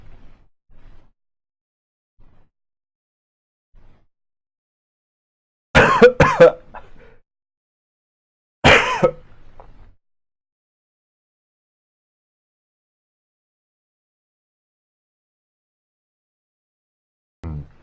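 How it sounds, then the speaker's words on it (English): A person coughs hard into a microphone, two loud close bursts of coughing and throat clearing a few seconds apart, then a short final cough, with near silence between. "Apologies for coughing into the microphone."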